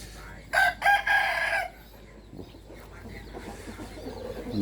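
Roosters crow loudly in a few bursts near the start, followed by softer clucking and rustling from chickens at a construction workers' site in the morning, with faint voices in the background.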